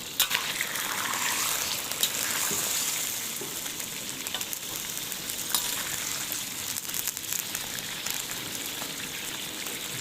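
Chicken pieces fry steadily in hot oil in a karahi over fairly high heat for a Kashmiri-style karahi, giving a dense, continuous close sizzle with crackling pops throughout and no voices.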